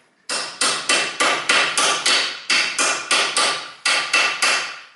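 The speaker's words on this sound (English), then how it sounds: "then I can use hammer and hit that" A hammer strikes a metal socket in quick sharp blows during Toyota Yaris brake disc replacement, about a dozen hits in three bursts, close and loud with no talking.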